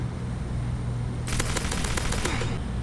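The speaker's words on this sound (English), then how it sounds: "Now we're going to test the Pistol S versus the Deagle with headshots and no body armor." Rapid gunfire from a Pistol and Deagle in the Roblox-style game Mad City, a burst of sharp repeated shots starting partway through over a steady low hum.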